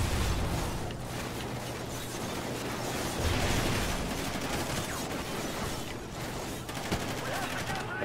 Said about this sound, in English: All these guys shooting at me